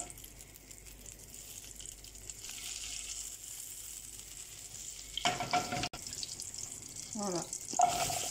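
A knob of butter melting in a frying pan, a faint steady sizzle with some clattering handling noises and a sharp knock later on.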